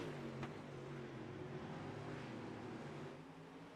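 Super late model race car engine roaring in a dirt-track racing video game at Lernerville, a steady droning howl with sustained pitch, easing off slightly near the end.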